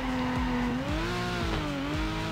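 A drifting car in the Torque Drift video game, its engine droning steadily while tires squeal in long wavering tones, loud and continuous with shifting pitch as it slides.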